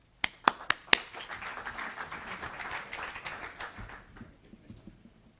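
An audience at a conference applauds to welcome a speaker, opening with a few loud, distinct claps before a sustained burst of clapping that fades out near the end.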